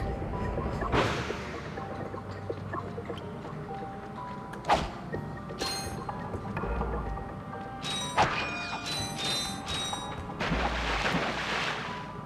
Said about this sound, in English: Alright, another bolt crank.